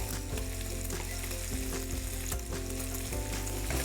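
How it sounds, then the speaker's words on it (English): Minced garlic frying in a hot pan over medium heat for lobster and lup cheong fried rice, a dense, continuous close sizzle with occasional stirring scrapes and no talk. "I'm gonna cook that garlic a little bit."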